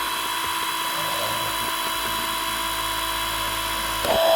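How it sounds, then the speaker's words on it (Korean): A Unimat Basic mini machine drills a hole in plastic, making a steady high-pitched whirring motor whine that holds constant throughout. A slight surge near the end suggests the bit biting into the material. "여기다 한번 구멍 좀 뚫어볼까요? 조금만 뚫어보겠습니다."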